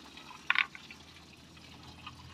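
Coolant trickles and pours quietly from a Toyota Corolla radiator drain plug, with a short splashy burst early on followed by a faint, steady dribble.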